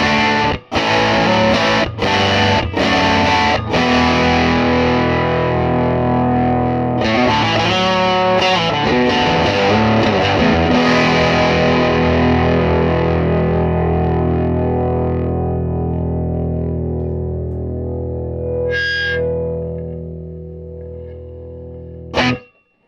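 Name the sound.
distorted guitar through tube amplifier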